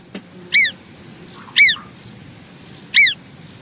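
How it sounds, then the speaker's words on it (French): Alpine marmot alarm calls: three sharp, high, whistle-like cries spaced about a second apart, loud and clear over a quiet outdoor background. "Voici une marmotte des Alpes."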